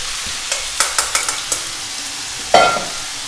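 Chicken and pepper noodles stir-fried in a wok: several short sharp scrapes and clatters of stirring in a quick burst, then a louder sizzle as food hits the hot pan, close and without talk.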